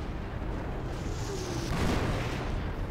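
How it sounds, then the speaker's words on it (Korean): Rifle fire from stormtroopers in the Company of Heroes strategy game, heard as a dense, muffled battlefield rumble with a swell of bursts near the two-second mark, distant rather than close. "스톰트루퍼가 지금 라이플 지금 쏘고 있는 거지"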